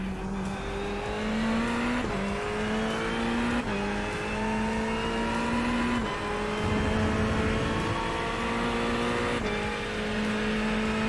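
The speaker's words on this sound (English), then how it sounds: "Yeah, Porsche RSR. I actually don't own that, but that sound of that car is so freaking awesome." Porsche RSR race car engine in a racing video game at Silverstone, a loud high-revving howl climbing through the gears with sharp shift breaks every couple of seconds, running continuously.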